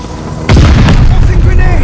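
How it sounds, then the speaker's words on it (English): A firebombing run in the World War II shooter Call of Duty Vanguard sets off a sudden loud, deep blast with a dense rumbling burst that stays strong to the end. "Allies call a firebombing run. Incoming."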